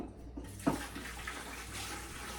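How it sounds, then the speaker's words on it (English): Tap water runs into a pressure canner being filled to its fill line for canning homemade broth, a steady hissing stream after a brief splash near the start, moderately close and continuous. "And then we're going to fill inside of our canner up to the fill line."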